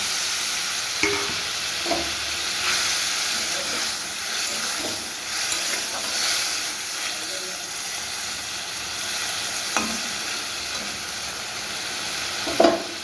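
A fish head for bok fish curry fries in a pan, giving a loud, steady hiss and sizzle throughout with occasional soft stirring knocks, close up.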